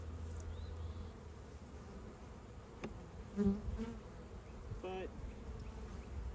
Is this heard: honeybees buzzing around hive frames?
yes